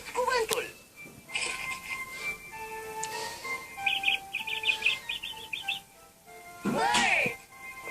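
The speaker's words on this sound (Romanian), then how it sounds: "Bird." A cartoon bird chirps in a quick series of bright, high tweets midway through, with animated voices speaking before and after.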